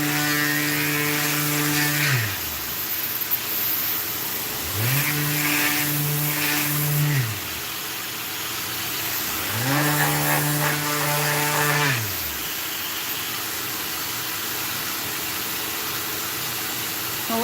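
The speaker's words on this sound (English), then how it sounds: "I'll let my vacuum turn off." A shop vacuum runs during furniture sanding, its motor winding up and down three times in long whining surges, steady and fairly loud, with a continuous hiss throughout and no talking.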